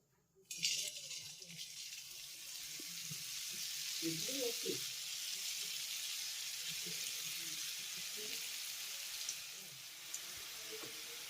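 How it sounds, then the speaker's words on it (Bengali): Potato bhujia strands fry in hot oil with a steady, bubbling sizzle that starts abruptly and holds close and even, with soft stirring and a few light clinks. "এবার আমি এক এক করে আলু ভুজিগুলোকে সব ভেজে নেব"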